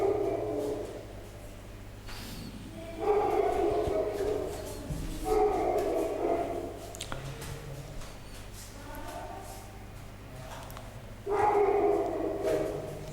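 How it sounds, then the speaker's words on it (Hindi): A dog barks repeatedly in the distance during a physics lecture, several loud bursts of barking recurring over steady room hum, with no speech in between. "पागल हो गया कुत्ता यहाँ का"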